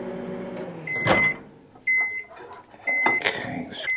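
A microwave oven finishing a heating cycle with plastic bait mix inside, a steady hum broken by a clunk and a series of short electronic beeps, close by and without talk.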